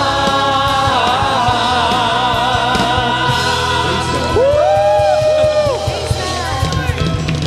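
A worship crowd at a gospel praise gathering shouts and cheers, loud sustained voices with whoops and sliding cries over ongoing music, with a leader's voice calling out over it.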